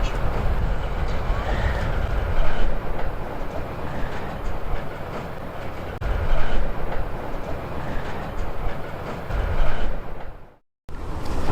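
A long freight train rumbles steadily overhead on a bridge with continuous rolling clatter of wagons, loud and close, heard from beneath, cutting off abruptly near the end.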